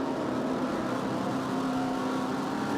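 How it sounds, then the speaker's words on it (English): Three V8 race cars run bumper to bumper at Pukekohe in 2009, a steady, buzzing engine drone held at an even level throughout with no break. "3 cars bumper to bumper"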